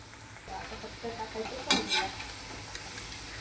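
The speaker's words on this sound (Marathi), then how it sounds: "फ्राईज आपले आता फ्राय होत आहेत।" Potato fries coated in cornflour deep-fry in hot oil over a high flame, giving a steady close sizzle with a brief louder burst of bubbling near the middle, alone without talk.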